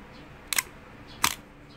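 Pentax K1000 film camera shutter on bulb setting, fired twice: a sharp open click followed about three-quarters of a second later by a second closing click, close up and crisp in a quiet room.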